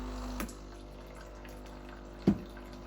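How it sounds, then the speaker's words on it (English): Hot water tap of a Breville Barista Touch BES880 espresso machine running, a steady low flowing hiss with a brief louder burst near the start and a sharper clunk near the end. "There we go, hot water tap working as intended."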